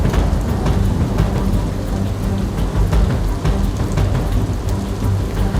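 Heavy monsoon rain pours loudly and steadily on surfaces during floods in Gujarat, with deep rumbling thunder running underneath throughout.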